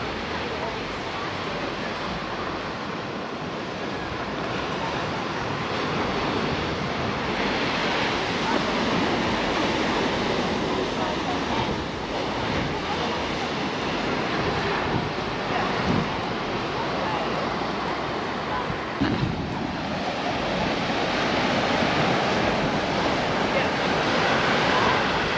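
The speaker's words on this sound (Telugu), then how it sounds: "నైట్ అవుతుంది కాబట్టి అలలు ఎక్కువ వస్తాయి అని అంటారు కదా" Ocean waves breaking on a beach at Phillip Island in the evening, a continuous broad rushing roar of surf that stays steady and full throughout, close and fairly loud with some wind buffeting.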